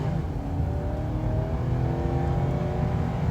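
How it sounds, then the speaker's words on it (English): A 2004 Lexus LS 430 V8 sedan accelerating from a roll toward 60 mph uphill, with a steady, smooth engine drone and rising tone heard from inside the cabin, with no talk. "we're gonna do a quick little 0 to 60-ish here. I'm gonna roll into the throttle."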